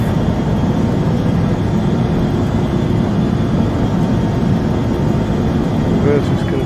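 An Embraer 145 jet lands in a flight simulator with its thrust reversers deployed, giving a steady, loud, low engine roar that holds evenly from start to finish.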